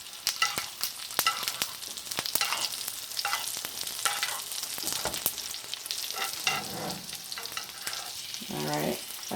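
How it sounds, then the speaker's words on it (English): A New York strip steak sears in a heavy skillet, giving a steady loud sizzle with crackling spits and a few sharp clinks of utensils against the pan, with no talking. "Alright, I have nice sear, so I'm going to turn it over."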